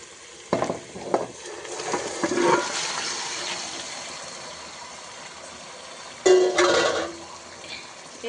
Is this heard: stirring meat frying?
yes